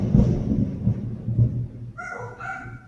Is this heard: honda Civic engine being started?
no